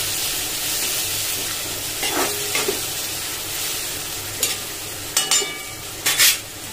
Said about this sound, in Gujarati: મિક્સ આપણે હલાવી દઈશું